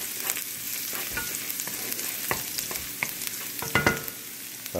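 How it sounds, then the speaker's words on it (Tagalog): Garlic frying in hot cooking oil for pork humba, a steady close sizzle with repeated scraping stirs of a spatula in the pan. "siguro mainit na ang mantika. So lagyan natin ng ating bawang."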